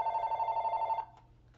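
A telephone rings with a bright electronic warble pulsing steadily for about a second, then cuts off into quiet room tone, moderately near and alone.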